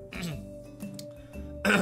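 A throaty cough and some throat clearing sound close by over a faint steady hum, followed by a brief burst of voice.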